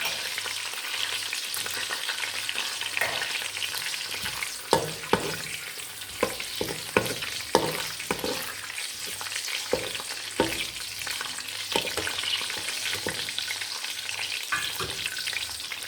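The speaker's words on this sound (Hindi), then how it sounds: "थोड़ा सा हम इसे रोस्ट करेंगे।" Dry fruits roast in a pan for a zarda sweet rice dish, with a continuous hiss of frying and a scatter of spoon scrapes and taps as they are stirred.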